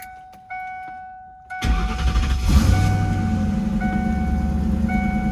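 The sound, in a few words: modified Ford Mustang SN95 engine starting and running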